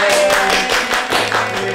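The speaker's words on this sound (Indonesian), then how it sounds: "Kasih tepuk dong guys" A studio podcast audience claps in a dense, steady burst for under two seconds, fairly loud and close, with faint voices mixed in.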